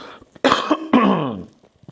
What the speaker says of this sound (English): apologies if there's a bit of coughing going through this video